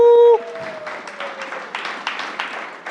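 An audience at a public safety panel applauds the co-panelists, including St. Louis Mayor Tishaura Jones: a steady patter of many hands clapping at moderate distance, starting after a brief tone and running to the end.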